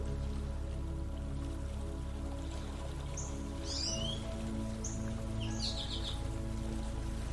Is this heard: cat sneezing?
no